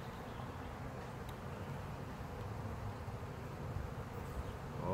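Honeybees buzz steadily in a beehive, a dense, close, continuous hum without pause for several seconds.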